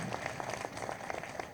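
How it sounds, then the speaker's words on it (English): A brief burst of scattered clapping from an audience at a school moving-on ceremony honors students Diana and Natalia, moderately loud and short. "Please, a round of applause to Diana and Natalia."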